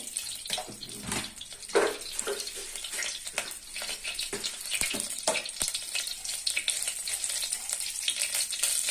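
Cumin seeds frying in two tablespoons of hot oil for ridge gourd chutney, a steady dense sizzle with bursts of crackling and popping, close and fairly loud throughout, with no talk.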